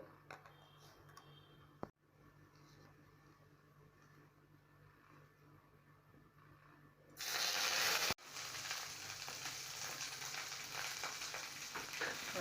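Mustard seeds and a little fenugreek crackle in hot oil for a puli charu, starting as a faint hum with a brief knock before a loud, steady sizzle bursts in and continues to the end.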